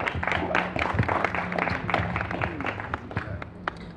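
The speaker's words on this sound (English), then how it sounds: "how about a round of applause for Heather Behrens" Audience applause for Heather Behrens at a small gathering, a modest patter of clapping from a handful of people nearby, steady for a few seconds with faint murmuring voices.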